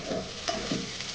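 Garlic cloves sizzling in oil in a pan while cooking garlic rice, a steady close frying hiss with a few stirring scrapes, no voices.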